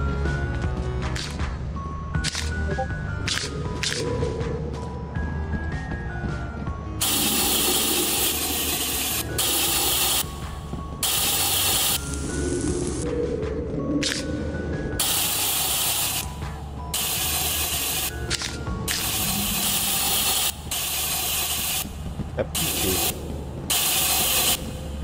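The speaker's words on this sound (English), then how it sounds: "That's spray paint." A spray paint can in the Lethal Company game gives repeated short bursts of hissing spray, switching on and off between clattering mechanical clicks and rattles over a steady background hum.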